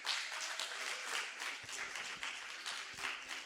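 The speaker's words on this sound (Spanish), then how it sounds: "Dale un aplauso a Dios." A church congregation applauding during a Spanish-language sermon, a soft, diffuse spread of clapping somewhat distant in a reverberant room, continuing evenly for a few seconds.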